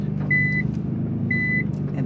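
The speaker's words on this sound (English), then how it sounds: "And there's that damn beeping" A Nissan GT-R's cabin warning chime beeps twice, about a second apart, each a short clear tone over a steady engine drone inside the car, with voices nearby.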